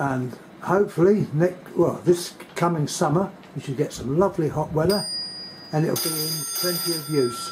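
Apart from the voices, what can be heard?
mobile phone ringing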